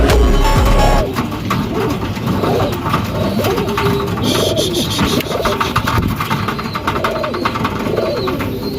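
Racing pigeons coo repeatedly in a loft, soft rhythmic throaty calls close by over a constant engine-like hum, with faint voices in the background.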